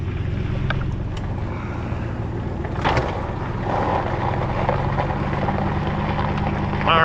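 Engine of a 2006 Honda TRX450R quad being pull started in second gear, a steady, loud rumbling drone with wind noise and a brief roughening partway through.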